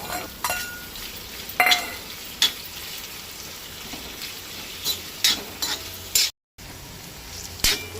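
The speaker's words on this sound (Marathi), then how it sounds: "कांदो लायट ब्रावन जायसर परतून घेवंक जाय।" Chopped onion sautéing in hot oil with garlic, ginger and green chilli gives a low steady sizzle, punctuated by sharp metallic clinks and scrapes of a spatula against the pan at irregular intervals.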